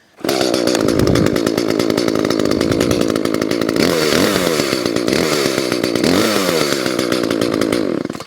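A Badger electric chainsaw starts and runs loud and close for about eight seconds, its motor revving up and down a couple of times before cutting off.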